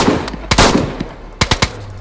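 Loud, close gunshots in the survival video game DayZ: a single shot, then a heavy blast, then a quick burst of three sharp reports, with no talk over them.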